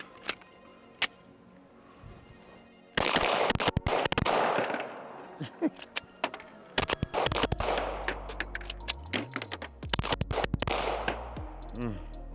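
A Glock 17 pistol fitted with a G-Flex reflex trigger, hot from a 700-round torture test, firing its last magazine outdoors: a few sparse shots, then a rapid string of loud, close reports with handling clatter, and someone talks at times.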